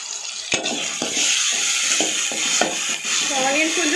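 Onions fry in hot oil in a pan for a prawn curry, a bright continuous sizzle broken by regular stirring scrapes about every half second, with a brief voice near the end.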